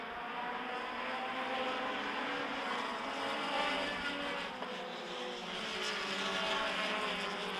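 Midwest Dash Series race cars roaring around a short oval track at a national short track championship, a steady dense wall of engine noise from several cars at once, loud and continuous without pause.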